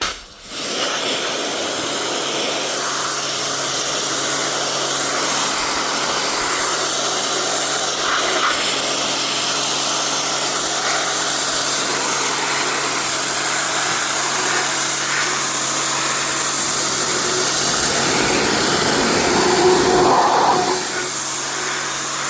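A pressure washer runs steadily as it cleans a slate roofing sheet, giving a loud, continuous hiss and motor drone that holds almost unbroken for the full stretch, with only slight shifts in tone near the end.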